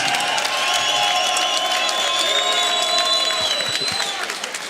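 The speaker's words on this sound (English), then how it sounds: "let's have a great round of applause for both brawlers" A crowd at a bare knuckle fighting event in an arena applauds and cheers for the brawlers, a dense wash of clapping with a held tone ringing through it, fading slightly at the end.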